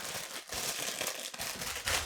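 A thin plastic bag holding a turtle-shaped face mask enhancer is opened, giving off close, continuous crinkling and rustling at a soft level with small bursts, and no talking.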